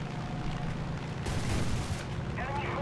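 Tank guns fire in the War Thunder video game, a burst of booming shots with a loud blast near the middle amid rumbling engine noise and battle sounds.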